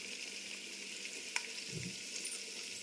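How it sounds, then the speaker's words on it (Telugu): Onion, tomato and green chilli frying in a pan for paneer pulao, a soft steady sizzle with a brief clink partway through and no voices. "ఇది బాగా పచ్చి వాసన పోయేదాకా వేయించుకోవాలండి"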